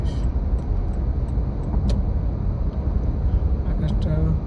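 A car cruises along the Corniche highway in Qatar at about 102, with a steady, loud low road and engine rumble and faint wind hiss throughout.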